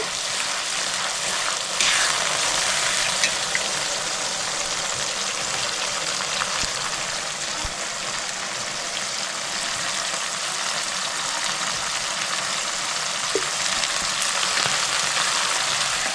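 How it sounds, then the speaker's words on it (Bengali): Spice paste with ground dried chilli and vinegar fries in a pan, giving a loud, close, continuous sizzle with occasional faint stirring scrapes, no voices. "2 থেকে 3 মিনিট ভালো করে মশলাটা আমি কষাই নেব।"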